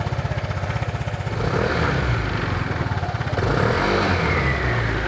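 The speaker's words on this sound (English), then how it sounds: "the noise level is very similar to a stock exhaust, as this exhaust system that's found on this HPE 2020 GTS Super" A 2020 Vespa GTS Super Sport with an Akrapovic exhaust idles with a close, steady pulsing burble, then revs up to a louder, rougher drone that holds before settling back.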